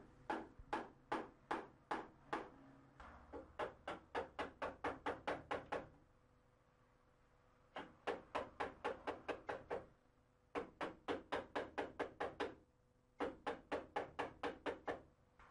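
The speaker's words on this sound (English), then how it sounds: "Remove this portion of the door with a chisel and mallet." A mallet drives a chisel into a wooden door to cut out a portion for a lock, with rapid bursts of sharp, close knocks, roughly six to twelve strikes per burst, separated by short pauses.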